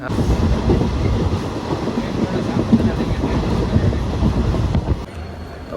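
A train rumbles steadily nearby, in Gujarat, India, with a continuous heavy rolling roar, easing off slightly near the end.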